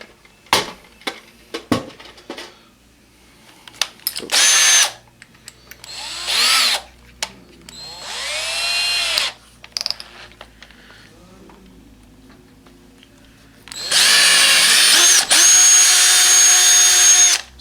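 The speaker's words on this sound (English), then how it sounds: "After you drill your hole" Several short bursts of a power drill whirring at high pitch while drilling a hole in metal, about half an inch, separated by pauses, ending in a longer, loud sustained drilling run.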